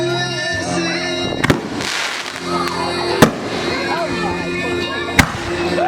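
Consumer legal fireworks go off nearby, with sharp cracking bangs at intervals amid crackling bursts, while people talk and react over them.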